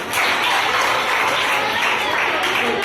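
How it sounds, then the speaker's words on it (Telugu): An audience at a children's drawing event applauds loudly in a dense, continuous wash of close clapping that carries on for a few seconds. "గట్టిగా 3 సార్లు చప్పట్లు కొట్టండి"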